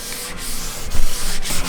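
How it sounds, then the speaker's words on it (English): Hand sanding of a budget hatchback's car bodywork with a sanding block, a steady close abrasive rasping in repeated back-and-forth strokes, with no voices. "you got so much more sanding to do"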